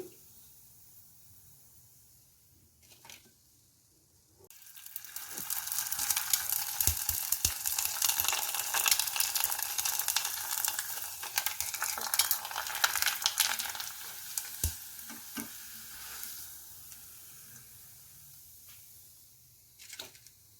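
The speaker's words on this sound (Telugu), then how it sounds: "రెండు వైపులా వేయించి తీసేసుకోవాలి" Homemade vadiyalu fryums fry in hot oil, starting quietly before a loud, dense sizzle swells for about ten seconds and then fades back down, with a few light clinks.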